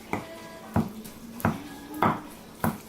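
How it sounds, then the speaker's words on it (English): A knife chops cooked chicken gizzards on a cutting board in a home kitchen, five sharp, evenly spaced knocks about two-thirds of a second apart, close and distinct with no talking. "I'm gonna start chopping the gizzards."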